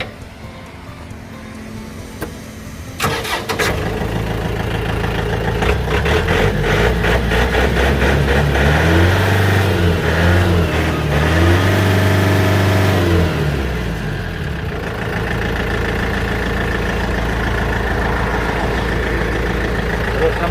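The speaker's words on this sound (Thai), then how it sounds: "เดี๋ยวเราลองมาสตาร์ทฟังเสียงเครื่องยนต์กันดูนะครับ" A 2009 Yanmar EF453T tractor's diesel engine cranks and starts, then idles with a rough, throbbing chug and a few brief rises in revs before settling, loud and close.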